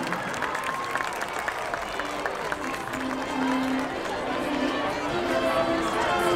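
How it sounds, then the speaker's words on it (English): Crowd applause and cheering at a high school marching band night tournament, a steady wash of clapping from a large stadium audience that swells slightly midway, with faint chatter and tonal sounds mixed in. "a great round of applause for all these amazing high schools, these amazing bands"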